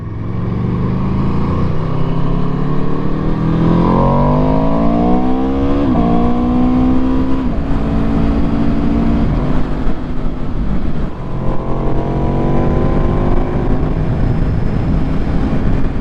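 A 2018 Aprilia RSV4RR sport bike accelerating in sixth gear, its loud engine note climbing steadily, dipping once, then rising again under a constant roar of wind.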